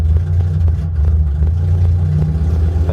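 A cold Volvo 740 with a K-cam, white injectors and a straight pipe idles roughly, loud and close, with a lumpy, uneven pulsing beat and a slight rise in revs, and no talking.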